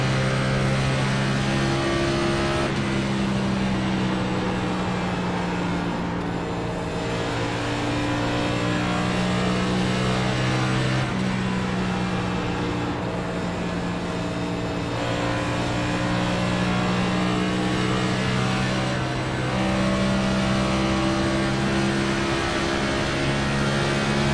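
NextGen stock cars racing at Indianapolis Motor Speedway in the iRacing simulator, a steady loud engine drone with sustained harmonic tones that rise and fall through gear changes, continuous for the whole stretch with no talking.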